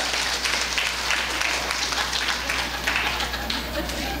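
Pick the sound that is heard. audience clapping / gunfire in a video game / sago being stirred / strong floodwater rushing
audience clapping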